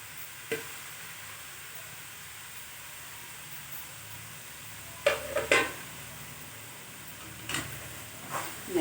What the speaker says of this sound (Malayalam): എന്നിട്ട് ഇതിനെ നന്നായി ഇളക്കി യോജിപ്പിക്കണം.